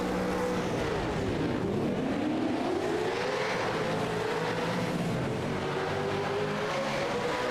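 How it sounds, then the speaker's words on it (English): V8 race car engines in the iRacing sim racing game at Long Beach roar steadily and loudly throughout, with rising and falling revs as several cars accelerate and pass close by. No voices are heard. "The engines are revved up."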